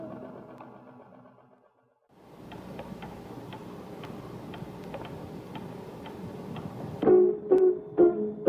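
A distant clock ticks steadily and faintly within a lo-fi song, following a quieter musical passage and a brief silence, then gives way to louder sounds near the end.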